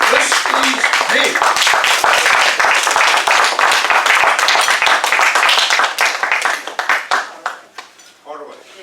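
A warm round of applause from a meeting audience after a performance, dense and loud at first, then thinning into scattered individual claps as it dies away. Voices murmur beneath the clapping.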